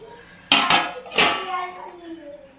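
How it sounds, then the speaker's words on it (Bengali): A lid is set down on a pot of egg and potato curry with two sharp, close metallic clanks about half a second apart, each ringing briefly before fading. "ঢাকা দিয়ে দিলাম।"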